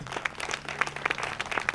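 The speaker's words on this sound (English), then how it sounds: "Please stand and get a big round of applause." A crowd claps for a family asked to stand at a Memorial Day ceremony in Lawndale, a brief, moderate patter of applause heard from some distance with steady room ambience.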